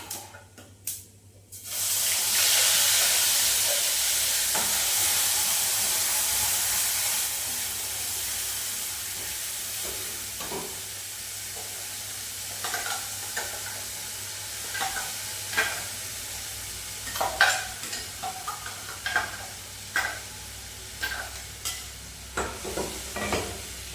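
Cumin and a cooking paste hit a hot pan with a loud burst of sizzling that settles into a steady fry, followed by scattered stirring scrapes and clinks in a home kitchen.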